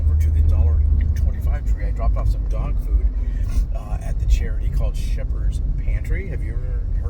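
A car drives along a road with a steady low engine and tire rumble throughout, while a person talks over it continuously.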